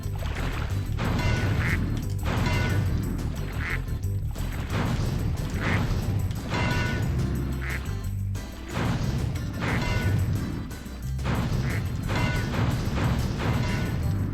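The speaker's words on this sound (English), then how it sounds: "I can hit any amount of ducks." Ducks in the Spyro shooting gallery quack over and over in a dense, loud stream. Shots and clattering hits are mixed in, and the racket runs continuously with no talking.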